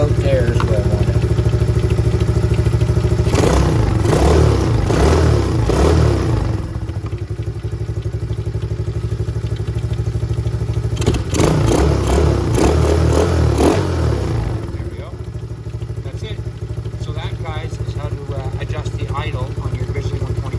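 A Venom Grizzly 125cc ATV engine runs loud and close after an idle adjustment. It holds a steady, rumbling idle, broken by a couple of short throttle blips that rise and fall before it settles back.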